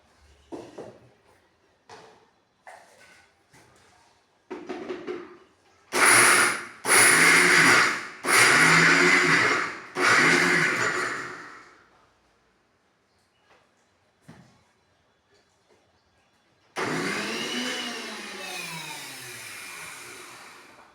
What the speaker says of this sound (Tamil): இப்போ இதை நான் ஒரு பல்ஸ் விட்டு அரைக்கிறேன் பாருங்கள்